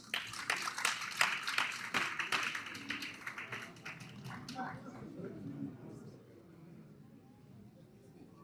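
Audience applause at an award ceremony for a business award recipient, a dense burst of hand clapping that is loudest at first and then thins out and fades over several seconds.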